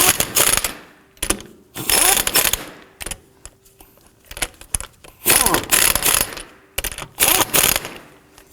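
Lug nuts being snugged down by hand on a Subaru Legacy rear wheel hub: repeated bursts of clicking ratchet and metallic rattling, close and loud, separated by short pauses.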